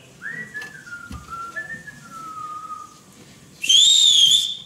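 A person whistles a wavering, sliding tune in imitation of a whistling donkey, ending in a sudden louder, shrill burst of high whistling, heard alone and close.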